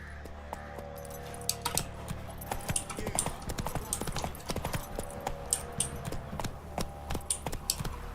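The horse Roach galloping in The Witcher 3, hooves clip-clopping in a quick, steady rhythm of sharp, close thuds over a low ambient drone, with a faint jingle of tack.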